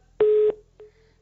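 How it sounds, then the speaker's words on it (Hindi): A phone line disconnects during a live television call-in, giving a short steady electronic tone of about a third of a second, then a fainter brief tone that follows it, with no voices. "चलिए, फोन डिस्कनेक्ट हो गया"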